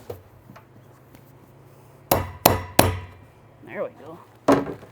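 Several sharp metallic hammer blows ring out on a pig water barrel, three in quick succession and another a moment later, with a short murmur of voice between them.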